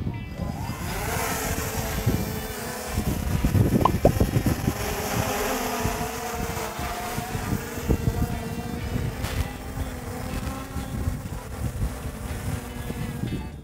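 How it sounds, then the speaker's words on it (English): UAV drone motors spinning during a ground pre-flight check, a steady whirring hum with wind buffeting the microphone throughout. "We'll actually check and make sure that the motors are running properly."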